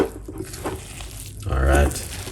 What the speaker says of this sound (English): Just gonna give that a stir.